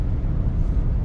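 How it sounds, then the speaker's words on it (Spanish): Car traffic moving up and down a town street in Mexico, a steady low rumble of passing vehicles filling the whole short stretch. "carros para arriba, carros para abajo"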